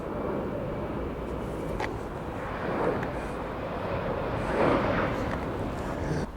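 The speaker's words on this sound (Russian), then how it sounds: "Самолет летит." A fixed-wing airplane flies overhead, a steady broadband roar that swells and fades gently across the whole stretch, moderately loud and unbroken, with no talk over it.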